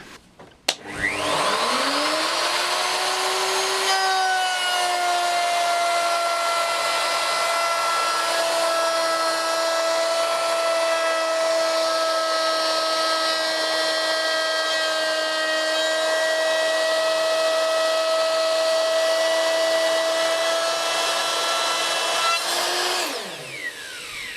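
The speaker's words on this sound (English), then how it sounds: "I'm going to take another pass, and I'll keep doing that until I get to the far side when the base of the router is resting against this side" Router cutting wood in a shop-made tenon and through-mortise jig, a loud steady high-pitched whine that spins up, holds evenly for about twenty seconds while the pass is made, then winds down, with no talk.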